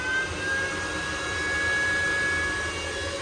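Exhaust fan running inside a Forest River Salem FSX 165VIEWX travel trailer, a steady close whooshing drone with a thin constant whine on top, holding even throughout with no talk.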